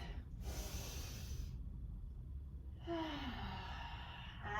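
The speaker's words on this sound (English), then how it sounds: "I'm going to take a breath." During a yoga flow class, a person draws a deep breath, a soft breathy rush heard close against a quiet background, followed by faint tonal sounds.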